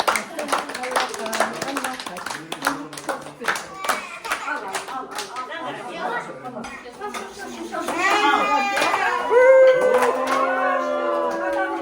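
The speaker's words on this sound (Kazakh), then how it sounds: "Шапалақтаңдар, әйтпесе жылаймын." Family guests clap their hands together at a Kazakh tusau keser leg-cutting ceremony for a toddler, a steady patter of applause mixed with children's voices and chatter, swelling louder near the end.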